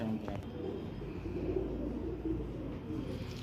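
A pigeon of an old prized breed softly coos close by, a low steady murmur running throughout over a constant background hum, with no clear speech.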